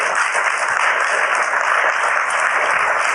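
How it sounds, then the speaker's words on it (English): Applause from a small audience after a political speech at the World Economic Forum, a steady dense clapping sustained for several seconds, fairly loud and close with no talking over it. "You notice he only got a couple claps"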